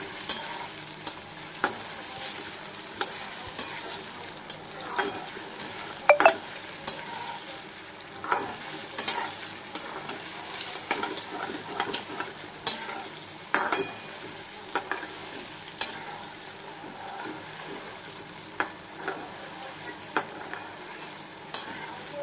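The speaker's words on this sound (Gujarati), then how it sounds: "અને આને હલાવતું જાઉં છું, બટાકા ના ચડી જાય તે આવું." Potatoes and tomatoes sizzle and fry in a pan for sabudana khichdi, with a steady crackle broken by repeated scraping clicks of a spoon stirring them around, close and moderately loud with no talking.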